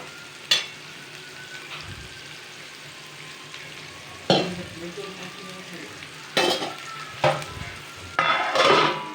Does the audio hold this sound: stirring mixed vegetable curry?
yes